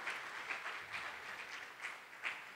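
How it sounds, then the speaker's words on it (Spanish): Applause from a church congregation welcoming a first-time visitor, fairly faint and distant, a steady patter with a few louder swells. "vamos a darle un aplauso, por favor"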